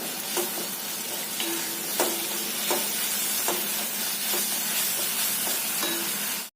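A jaggery and tamarind mixture is stirred in a frying pan over a steady sizzle, with rhythmic scraping strokes about every half second to a second, close and fairly loud.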